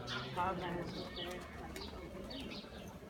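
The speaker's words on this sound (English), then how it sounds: "Oh, and the birds" Pigeons coo softly in the background at an indoor religious service, a few low, rounded calls repeating under nearby talk.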